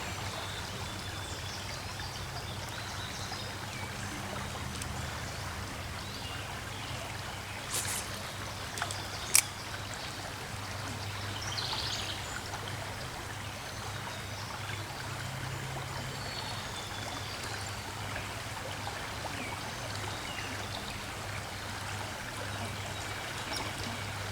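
River rapids rush in a steady, even wash of flowing water, heard at a moderate distance, with a couple of faint knocks partway through and no talking.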